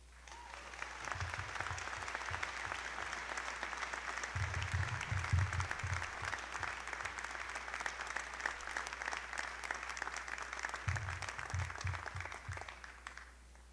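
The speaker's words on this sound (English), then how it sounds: "give yourselves a huge round of applause." A commencement crowd at a 2013 graduation gives a long round of applause, dense and sustained for over ten seconds with occasional low thumps beneath it, fading at the end.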